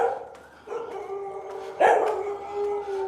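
A dog barks and gives a brief howling yelp, a few scattered calls over about three seconds against a steady low background hum, at Wat Huay Mongkhol temple in Thailand.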